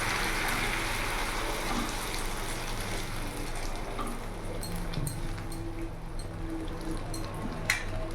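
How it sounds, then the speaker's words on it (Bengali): Water poured into a cooking pot of simmering taro and Malabar spinach curry, a steady hissing, splashing wash with faint clinks near the end. "এবার অল্প একটু জল দিয়ে দেবো।"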